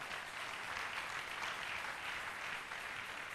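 A church congregation claps in a steady, even wash of applause, faint and continuous, with no voice rising above it.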